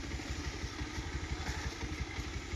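A motorcycle engine runs with a steady, rapid low thudding beat, close and fairly loud, with a rattly mechanical edge and no voices over it.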